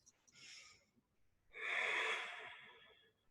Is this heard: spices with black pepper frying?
no